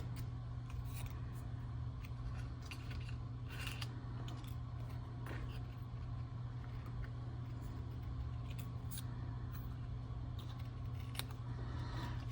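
Scissors snipping paper embellishments for a Stampin' Up! pop-up card, a run of quick crisp cuts over a steady background hum, with no talking.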